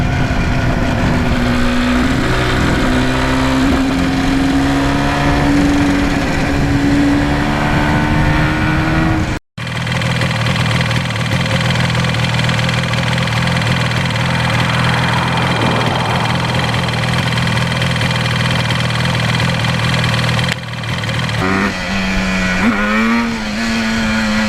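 A 1977 Yamaha RD400 motorcycle engine runs loud and close, its steady drone holding pitch before a brief cutout, then climbing again near the end as it pulls through the gears.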